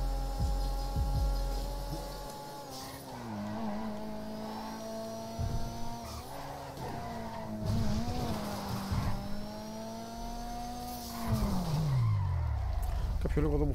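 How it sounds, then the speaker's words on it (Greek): Racing car engine in the GTA video game, climbing Mount Chiliad, drones steadily at high revs with rising and falling pitch sweeps, brief tire squeals and a deep rev dip near the end, loud and continuous throughout. "αυτό που ακούγεται να ανεβάζει ενώ δεν στροφάρει άλλο και πάει 200 χιλιόμετρα είναι και αυτό εικονικό"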